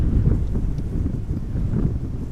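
Gusty crosswind buffeting a microphone outdoors at Amsterdam Schiphol Airport during aircraft arrivals, a continuous low rumbling roar that swells and dips throughout, with no voices.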